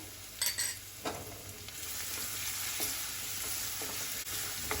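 Garlic cloves sautéing in hot oil with cumin for palak matar, a steady close sizzle with a few stirring scrapes and clinks near the start.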